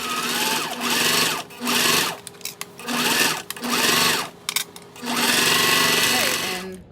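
A sewing machine topstitches fabric strips for a bag in several loud, close bursts of rapid mechanical whirring separated by short pauses, with a voice speaking briefly in the gaps.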